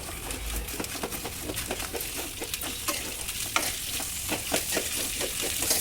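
Chillies, tomato, onion, ginger, cloves and cinnamon frying in oil in a pan, a steady sizzle broken by rapid, repeated scraping and tapping of a spatula stirring, close by.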